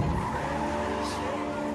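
A stolen car pulls away with tires squealing, a loud sustained skid and screech blended with engine roar, steady for under two seconds before fading at the end.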